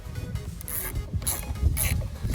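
A ratchet turning a 10mm bolt on the bumper bracket of a Citroen C1, Peugeot 107 or Toyota Aygo, giving several short bursts of close, rapid clicking with dull knocks underneath.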